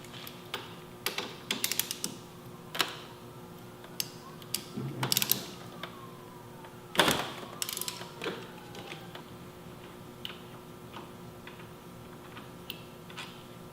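A Torx T50 bolt is worked out of the end of a motorcycle handlebar tube, giving quiet, scattered ratcheting clicks, creaks and metallic ticks close by, with a few louder scrapes and no talking.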